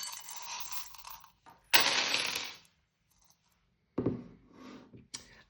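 Small metal charms are shuffled together for a fortune reading, giving bursts of clinking and rattling separated by short pauses.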